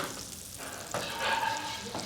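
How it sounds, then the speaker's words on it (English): Whole butter sizzles and bubbles in a hot pan around a seared sandwich, a steady close frying crackle that swells louder as the sandwich is moved through it, with no talk. "I'm gonna add a little bit of whole butter to this. And if you can see that sizzle, it starts to bubble"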